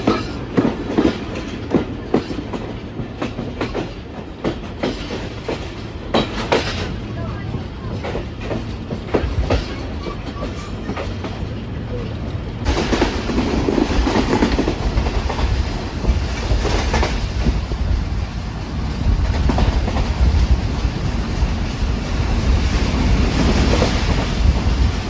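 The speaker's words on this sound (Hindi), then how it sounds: "मरियाला रेलवे स्टेशन से गुजर रही है गाड़ी भैया" The Pak Business Express rolls along the rails past Mariyala station, its wheels clacking in repeated rhythmic bursts over a rumbling carriage drone that grows louder and denser in the second half.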